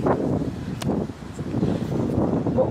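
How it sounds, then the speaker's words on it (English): Wind blows outdoors in steady, low, rumbling gusts that buffet the microphone, with a brief rustle partway through and no clear speech. "Ooh, it's windy."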